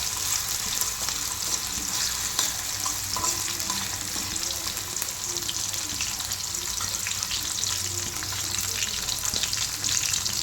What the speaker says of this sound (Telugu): క్యారెట్ని, మునక్కాడల్ని ఇలా మంచిగా వేయించుకోవాలి